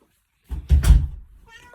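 A house cat, one of several kittens, gives a short meow or two close by, a brief vocal burst lasting under a second, followed by quiet.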